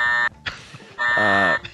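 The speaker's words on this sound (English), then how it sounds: "I knew a double buzzer was coming up." A game-show double buzzer sounds twice in quick succession, two loud harsh electronic tones with a short gap between them, alone without talk.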